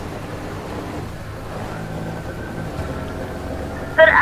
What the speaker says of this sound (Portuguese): tô escutando barulho de carro